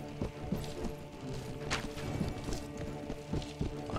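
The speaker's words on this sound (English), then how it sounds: "My lame horse not moving very fast." Horse hooves thud in a galloping cavalry charge in a medieval battle video game set in 1257, a steady clip-clop rhythm close by amid a dense, noisy battle din.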